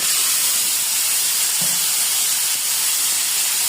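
Tomatoes hit a hot pan already holding ground onion and garlic paste, giving a loud, steady sizzling hiss that runs unbroken throughout with no voices.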